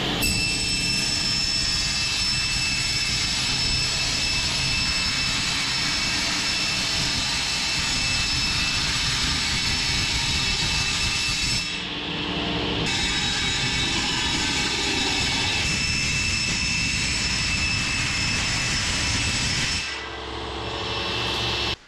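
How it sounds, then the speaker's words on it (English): Table saw cutting aluminium for a 1980s boat dashboard, a loud continuous screaming whine with shifting grinding tones and two brief dips as the metal passes through the blade. "we're going to be using our table saw. Run it through, it gets nice and square"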